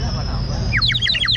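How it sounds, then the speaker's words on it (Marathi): A water-filled clay whistle toy at a Konkan festival stall chirps like a sparrow in a quick run of bright, warbling trills, heard close over a busy background of crowd chatter and people talking. "इथून म्हणजे पाणी फिल केलं ना का तो चिमणीसारखा आवाज येणार."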